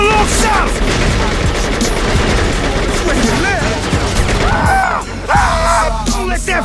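Heavy gunfire rattles almost nonstop during a car chase in True Crime: New York City, with dense automatic bursts, loud and close, and shouting voices mixed in.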